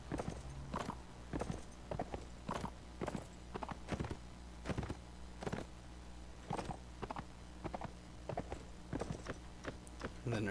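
Horse hooves in Mount & Blade clip-clop steadily at a trotting pace, crisp and close, repeating throughout with no voices.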